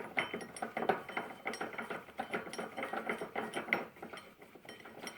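A hand ratchet works a front shock absorber nut on a Mercedes C180, giving quiet, repeated metallic clicking in short uneven bursts, close by with no talk.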